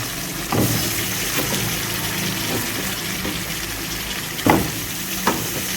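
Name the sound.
masala for raw mango pickle frying and being stirred in a pan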